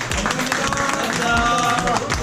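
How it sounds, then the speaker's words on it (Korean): A group gathered after a dive tour claps for the staff in a brief burst of applause, mixed with voices talking over it. "박수 한번 쳐주십시오"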